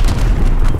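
Grenade exploding in Call of Duty: Vanguard multiplayer Domination, a single loud, deep boom with a rumbling low end, close and filling the whole brief moment.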